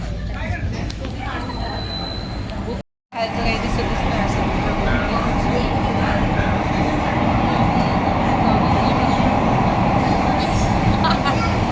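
Underground metro train in Mumbai rumbling along with a steady low roar and rattle, a brief gap early on, and a person talking over the running noise.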